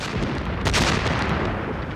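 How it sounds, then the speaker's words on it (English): German artillery shells firing in a WW2 battle, a dense rumbling barrage with a heavier boom midway, loud and continuous. "From the shore came the shells of the German artillery."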